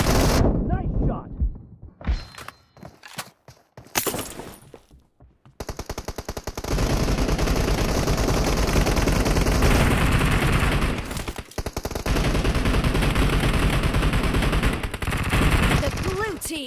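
Rapid automatic gunfire in the PUBG battle royale game: after a few scattered shots and thuds, dense sustained bursts crackle loudly, briefly pausing mid-way, with game voice callouts mixed in.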